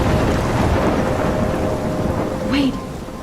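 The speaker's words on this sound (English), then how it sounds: "I'm trapped in a storm?" A thunderstorm with heavy rain in the video game Life is Strange, a loud, steady roar of rainfall and rumbling thunder that eases slightly near the end, with a brief higher whistling tone.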